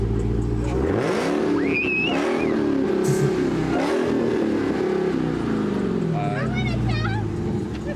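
A car engine revs hard as the gas pedal is pushed, a loud sustained roar that climbs and falls over several seconds while people talk and react over it.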